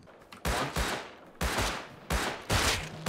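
Gunfire in the survival video game Rust: about five sharp, separate shots spaced unevenly over a few seconds, each a sudden loud crack that fades quickly, with no talk.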